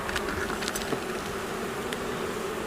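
Honeybees buzzing steadily around an open hive during an inspection, a continuous close hum with a few louder passes near the microphone.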